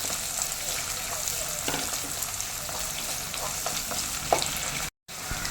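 Chopped onions fry in hot oil with fenugreek, a steady close sizzle with occasional spoon stirring scrapes and taps, cut briefly by a short silent gap near the end.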